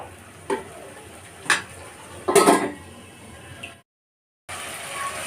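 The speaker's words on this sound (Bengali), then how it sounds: "এবার আদা রসুন পেস্টটাকে ভালো করে আমি" Ginger-garlic paste fries over onions in a pan for a prawn and chicken dum biryani, with three sharp spatula scrapes and clanks over a soft steady sizzle, then a brief break before the frying hiss returns.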